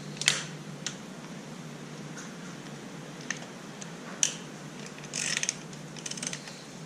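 Sparse, faint mechanical clicks and ratcheting taps as clutch cover bolts come off a Honda CB125E motorcycle engine, with short bursts standing out against a quiet background.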